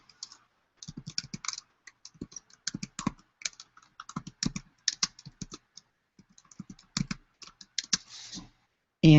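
Keys clatter on a computer keyboard as a project name is typed, in quick uneven bursts with short pauses, close and clear, with no voices.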